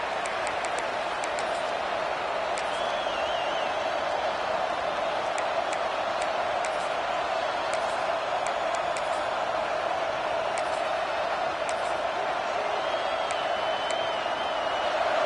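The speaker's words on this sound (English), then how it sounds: "listen to this crowd noise. This stadium is vibrating." A large stadium crowd in a college football video game roars steadily from a distance, a continuous dense wash of cheering with scattered whistles and shouts.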